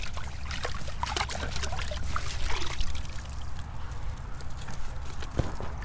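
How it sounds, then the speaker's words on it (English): Water splashes and trickles steadily as crawfish are rinsed in a trap outdoors, a close, continuous pouring and dribbling with small knocks and clatters. "Let me rinse them off a little bit."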